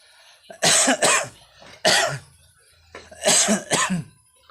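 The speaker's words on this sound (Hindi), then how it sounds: "थोड़ा सा खांसी हो रहा है, माफ़ी कीजिए।" Several harsh coughs come in short bursts, two close together, then one, then two more, loud and near with brief quiet gaps between.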